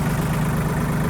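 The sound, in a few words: tractor engine idling in snow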